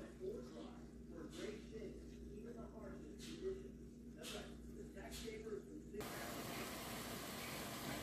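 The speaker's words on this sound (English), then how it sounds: "now I'm going to saute my onions" Onions sautéing in a pot for Southern-style hamburger steaks, a soft sizzling hiss running under quiet background hum with occasional stirring bursts, then a louder, steadier sizzle near the end.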